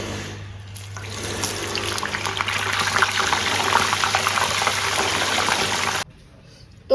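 Potato wafers frying in hot oil, a steady sizzling bubbling hiss that rises and holds for several seconds before cutting off abruptly, heard alone without talk.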